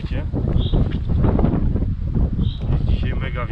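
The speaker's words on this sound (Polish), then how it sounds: "Jest dzisiaj mega wiatr" Strong wind buffeting the microphone beside a wide river, a loud, constant low roar and rumble with a couple of faint higher tones drifting through.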